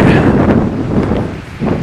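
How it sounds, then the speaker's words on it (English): A big gust of wind buffets an outdoor microphone near a home wind turbine setup, a loud rumbling roar that swells, dips briefly and surges again. "big old gust of wind"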